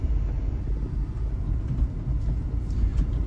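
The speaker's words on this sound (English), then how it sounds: "pretty much gonna be idling and on the brakes the whole way down now" A Hyundai Terracan idles downhill on its brakes, giving a steady, close, low engine and road rumble that holds evenly with no revving.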